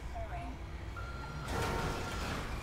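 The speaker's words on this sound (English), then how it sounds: "You hear the beepy noise? I'm backing up." Fire truck reversing beeps in Grand Theft Auto 5, a steady series of electronic tones heard under game engine rumble and traffic noise, with someone talking over the top.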